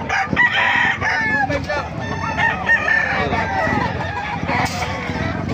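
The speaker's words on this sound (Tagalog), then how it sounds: "May manok kayo dito sa Bukawi." A rooster crows loudly and repeatedly amid clucking chickens, with people talking nearby throughout.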